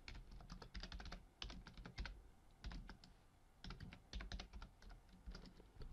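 Rapid typing on a computer keyboard, steady clusters of key clicks with brief pauses, close and clear with no talking.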